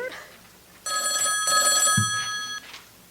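An old landline telephone bell rings in a long steady burst, loud and close, with a voice briefly heard around it.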